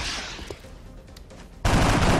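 Squad gunfire in the turn-based strategy game XCOM: Enemy Unknown: after a quiet lead-in with faint clicks, a loud, sudden burst of rapid automatic fire cuts in and runs to the end.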